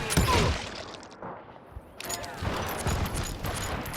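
Gunfire from the Wild West shooter game Call of Juarez Gunslinger, set at Stinking Springs, comes as a dense fusillade of sharp shots at the start. After a brief lull a second burst follows and continues steadily to the end.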